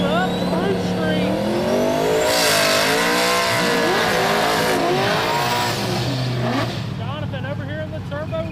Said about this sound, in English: Jonathan over here in the turbo Fox body, taking on Brandon in the supercharged Fox body.